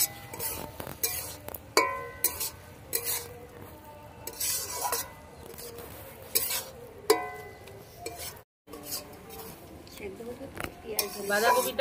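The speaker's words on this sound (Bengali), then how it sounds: "জিরে বাটাটা দিয়ে ভালো করে একটু নেড়ে দেবো।" Cumin paste being stirred into cabbage in a metal pan, with repeated scrapes and clinks of a spatula against the pan over a low sizzle, close and irregular, and a brief silent break near the end.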